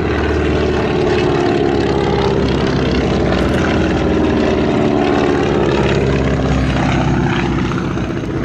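A 1944 Beechcraft Staggerwing propeller biplane flying at the Duxford summer air show, its radial engine and propeller giving a loud, continuous drone that stays strong and steady throughout.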